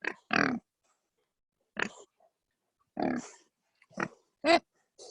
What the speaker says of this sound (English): They are our two pigs at La Purisima Mission.